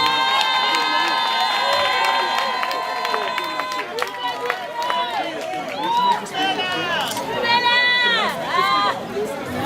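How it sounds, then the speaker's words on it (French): An audience in church responds during a jubilee Mass with a dense stretch of crowd noise, clapping texture, cheers and high ululating calls, loud and continuous throughout. "Sur votre applaudissement, s'il vous plaît."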